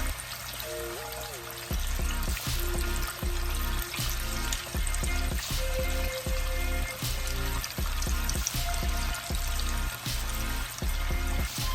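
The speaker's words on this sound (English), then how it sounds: "So we'll let these fry until they're golden brown." Ribs fry in hot oil while being cooked until golden brown, giving a steady, close sizzle that runs throughout with a low rumble and faint tonal hum beneath.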